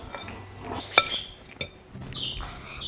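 A fork mixing fish ingredients in a dish, with scattered clinks and scrapes against the dish, two sharper taps standing out, close and fairly quiet with no talk.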